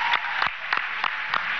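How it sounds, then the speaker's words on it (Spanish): Applause for the governor of Bolívar State at a gathering with Nicolás Maduro and workers, a dense steady patter of many hands clapping with a few sharper claps punctuating it. "un gran aplauso al gobernador Justo Noguera Pietri"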